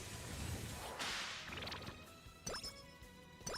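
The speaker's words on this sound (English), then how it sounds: "Did I hear a whip?" A sharp whip crack sounds in the Umamusume horse-girl racing game, preceded by a swelling whoosh and followed by a couple of quick snapping hits, crisp and close over faint game background.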